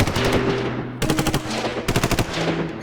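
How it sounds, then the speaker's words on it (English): Sustained machine gun fire from a museum augmented reality battle presentation: loud, rapid bursts of shots in quick rhythm, broken by brief pauses, with no voices. "The firing intensified."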